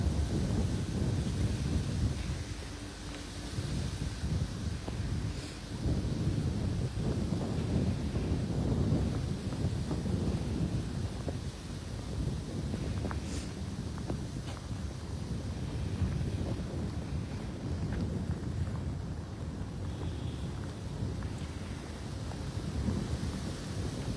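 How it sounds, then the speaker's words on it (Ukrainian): Continuous cold wind roaring and buffeting the microphone outdoors during a snowstorm in Dnipro, Ukraine, a steady rumbling gust without letup and no voices. "Вітер холодний."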